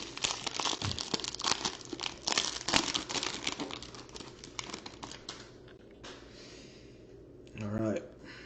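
A 2020 Bowman Draft trading card pack is torn open and its foil wrapper crinkled, a dense run of crackling and rustling close up, with a person talking briefly near the end.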